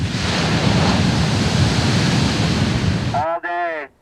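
Ocean surf at Newport Beach on a red-flag day, loud continuous crashing and hissing of waves with wind rush, cut off near the end by a short burst of someone speaking.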